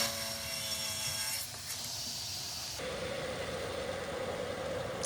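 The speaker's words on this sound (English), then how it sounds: "using a miter saw with a triple chip blade in it" A miter saw fitted with a triple chip blade cutting solid surface countertop material, heard as a continuous loud whirring, rasping cut that shifts in tone partway through and keeps running throughout.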